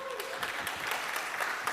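Audience at a tech conference talk applauding in a brief, fairly faint burst of steady clapping from a room full of people, with no talking.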